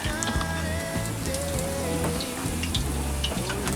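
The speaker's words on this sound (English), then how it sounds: "this has been the first lot of snapper that's been deep fried in this little hut in the middle of Te Urewera" Battered snapper deep frying in oil inside a small hut in Te Urewera, a steady close crackle and sizzle with faint background tones running under it.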